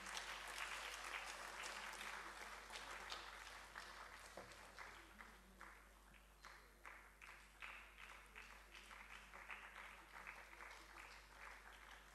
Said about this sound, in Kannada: ಎಲ್ಲರೂ ಕೂಡ ಅಭಿನಂದನೆಗೆ ಜೊತೆಯಾಗಬಹುದು ನಮ್ಮ ಚಪ್ಪಾಳೆಗಳ ಜೊತೆಗೆ.